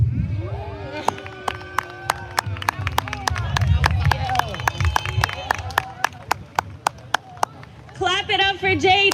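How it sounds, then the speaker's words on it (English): A sparse audience at a youth poetry open mic claps in a slow, steady rhythm of distinct, evenly spaced handclaps under a speaking voice, with brief babble and cheering near the end. "Clap it up for JD"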